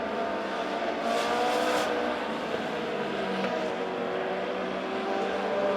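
Race cars roar steadily around a dirt racetrack at a Legend A-Main race at Springfield Raceway, a continuous distant engine drone with rising and falling passes and no voices.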